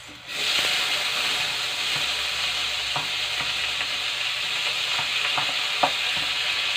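Tomatoes fry in a hot pan with a steady loud sizzle and hiss, broken by occasional light clicks of stirring, close by with no speech.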